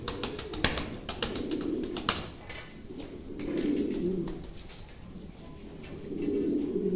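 Two zebra-patterned female pigeons coo in repeated low, throaty bursts, each swelling for about a second and spaced a couple of seconds apart, heard close with no voices.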